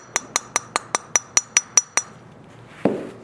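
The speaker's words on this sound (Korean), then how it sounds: "고반발, 구반발 클럽의 소리가 납니다." A quick, even series of about ten bright metallic clinks is followed after a short pause by a single sharper impact of a Yamaha 2017 inpres UD+2 high-rebound golf club striking a ball, close and clear.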